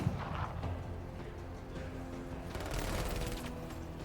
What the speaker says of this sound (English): he got the entire squad with a single grenade